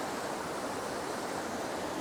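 A waterfall rushes in a soft, steady wash of water noise heard from some distance, even and unbroken, with no voices.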